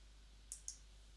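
Two quick, crisp computer mouse clicks in close succession, near and quiet against a low steady hum.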